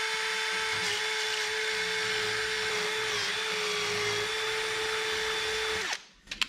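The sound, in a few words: drill drilling out metal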